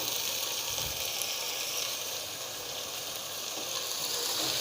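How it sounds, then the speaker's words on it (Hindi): Boiled beef frying with onions and garlic in a karahi, a steady, dense sizzle and crackle heard close up and continuous throughout, with no voices. "इसे अच्छे से हमने भूनना है प्याज़ों और लहसुन के साथ।"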